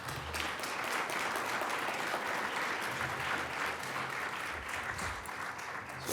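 Lecture audience applauding at the close of a talk on AI, dense sustained clapping from a large crowd at moderate distance, steady for several seconds with no speech over it.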